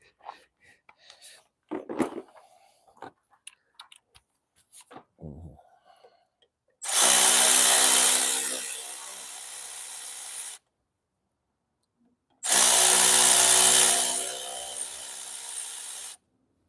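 A power tool gun fitted with a Torx 30 bit, used during a Ford Focus EcoBoost wet timing belt change, runs in two long, loud hissing bursts, preceded by scattered clanks and brief speech.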